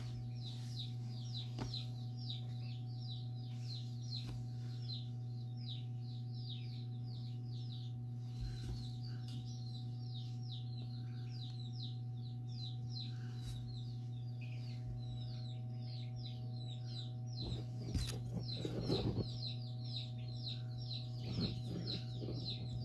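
A flock of chickens clucks and chatters continuously in the distance, faint and busy, beneath a loud steady mechanical hum from a nearby machine.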